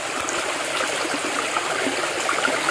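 Shallow creek water flowing steadily beside a riverside spot in the Philippines, a close, continuous babbling and trickling with no voices.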